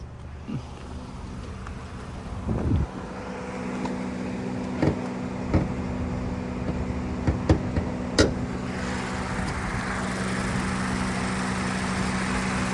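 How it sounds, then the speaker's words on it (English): A 2022 Mazda CX-5 engine idles steadily at close range, a low continuous hum with a few clicks and light knocks along the way, then the tone brightens slightly near the end. "I'll pop the bonnet for you so you can have a listen to the engine"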